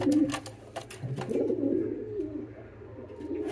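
A pigeon coos softly and close by, a low throaty warble rising and falling, with a few sharp clicks and rustles at the start.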